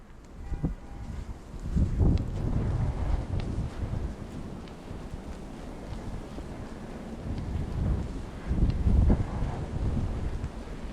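Gusty wind during a New York blizzard buffets the microphone in low, rumbling surges that swell and fade repeatedly, strongest in a few loud bursts, with no talking.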